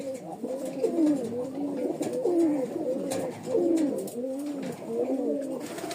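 Pigeons in a loft in Rajshahi, including a pair of crestless white-tailed birds, coo in repeated soft rolling phrases close by, several birds overlapping in a steady rhythm against faint background noise.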